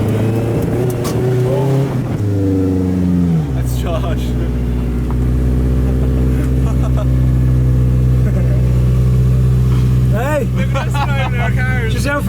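Toyota AE86 car engine on its first drive, a loud steady close engine drone with shifts in pitch as it revs and settles, with people talking over it throughout.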